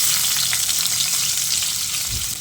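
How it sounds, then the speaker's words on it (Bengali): Chopped onions hit hot oil left over from frying eggs for egg curry, producing a loud, steady, close-up sizzle that fills the whole stretch, with a soft low knock near the end and no talking. "এবার এই তেলের মধ্যেই দিয়ে দিচ্ছি কেটে রাখা পেঁয়াজ"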